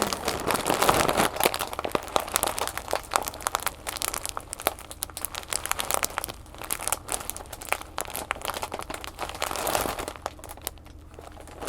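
A huge plastic bag of oats is crinkled and crunched up close in dense, continuous rustling bursts, loud and crisp, with no talking.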